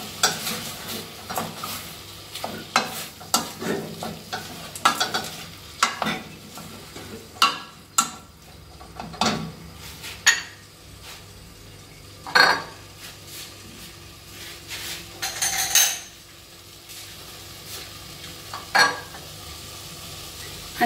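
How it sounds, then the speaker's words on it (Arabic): Chopped coriander and parsley being sautéed in a pan for a Moroccan chicken and rice dish, with a steady close sizzle broken by repeated scraping stirs of a utensil against the pan. No voices. "غنخلي هادشي كيتشحر مزيان"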